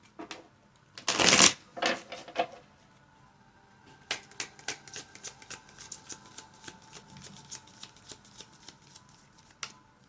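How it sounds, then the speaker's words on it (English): A loud riffle of cards opens, followed by a scattered series of soft taps and flicks of cards being handled, close and quiet. "Oh, I didn't shuffle."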